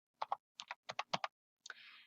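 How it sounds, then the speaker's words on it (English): Quick clusters of keystrokes tapped on a computer keyboard in a quiet room, arriving in short paired bursts with brief pauses, followed by a softer smeared click at the end; no voice. "you're going to be typing in sixth grade"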